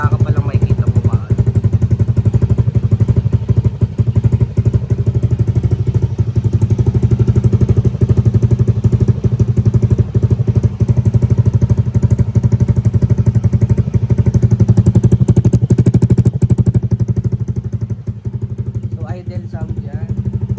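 Steady close idle of a Honda Click motorcycle with an Akrapovic aftermarket exhaust, a deep burbling low-pitched pulse with faint rattling, holding constant for the whole stretch before easing slightly near the end.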